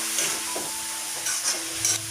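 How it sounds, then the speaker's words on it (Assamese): Boiled, cut potatoes tossed into a hot frying pan with a bay leaf for an egg and banana flower dish, giving a steady close sizzle broken by a few short scraping stirs. "বইল কৰি কাটি লোৱা আলুখিনি দি দিছোঁ।"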